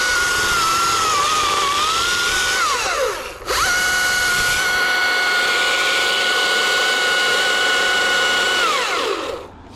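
A power saw runs steadily at high revs while making a brake cut in a dead tree, dropping off briefly mid-cut before climbing back to a loud, sustained whine close by.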